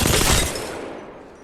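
A short, loud burst of rapid gunfire from Apex Legends on PS4, close and dense at first, then quickly fading into a reverberant tail.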